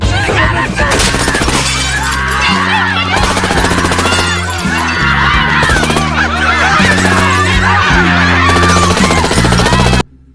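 Assault rifle fire rings out in a movie party scene as long, dense bursts with shattering impacts, loud and sustained for about ten seconds over a churning soundtrack before it cuts off abruptly.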